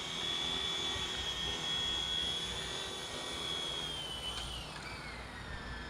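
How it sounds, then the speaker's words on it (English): A cheap, realistic RC helicopter makes a backwards landing. Its steady, close, high-pitched motor and rotor whine runs throughout and dips slightly in pitch near the end as it settles. "Come in for a backwards landing here. I'm gonna land it right in this spot right here."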